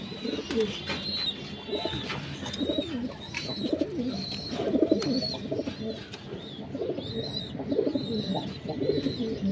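Several pigeons in a home loft coo continuously, overlapping low rolling calls close by, with occasional higher chirps and faint background noise.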